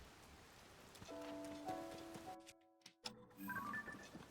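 Rain in the video game Zelda: Tears of the Kingdom, a soft steady patter of drops beneath chiming game tones, briefly cutting out before resuming, faint overall.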